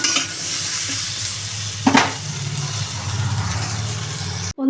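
Bitter gourd and drumstick pieces fry in hot oil in a kadai for shukto, giving a steady, close sizzle with a brief clatter of stirring midway, cut off abruptly at the end.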